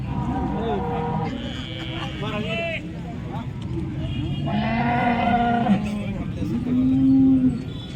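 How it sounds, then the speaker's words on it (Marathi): Cows lowing at a cattle market, with several drawn-out moos close by among crowd noise while people talk over them. "ही त्यांची तिसरी गाय यांची चौथी गाय आहे"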